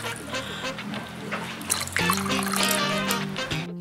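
A small amount of water trickles and pours into a bowl of rice for sel roti batter, with light splashing and dribbling close by over faint background noise.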